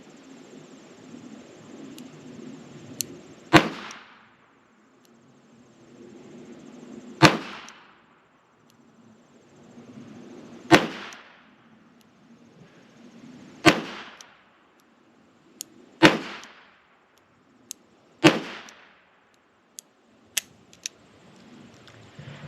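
Six sharp gunshots come from a Henry Big Boy revolver firing .38 Special rounds double action outdoors. Each crack rings out a few seconds after the last with a brief decay, and small clicks and handling sounds fall between them.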